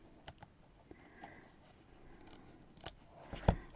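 Curved embroidery scissors snip quietly at close range, several faint sharp clicks spread out in time, ending with one louder cut.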